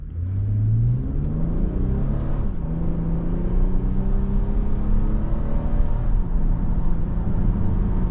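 A 2024 Toyota Camry XSE V6 with an 8-speed automatic accelerates steadily, its engine note rising and dropping through smooth gear changes under constant road and wind rumble, heard from inside the cabin.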